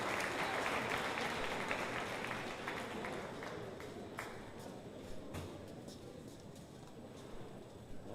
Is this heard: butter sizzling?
no